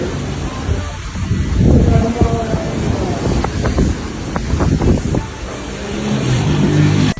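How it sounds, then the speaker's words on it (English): Strong, gusty wind from a squall line sweeping across southern Jamaica near Old Harbour Bay, a steady loud roar with heavier buffeting on the microphone and scattered cracks and knocks, with faint voices in the mix. "Tree limbs breaking as it gets windy"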